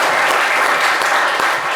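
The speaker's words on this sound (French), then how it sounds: "Applaudissements pour donner un peu de chaleur à Déborah." A studio audience at a live French talk show bursts into warm applause, a loud, dense clatter of many hands filling the whole short moment.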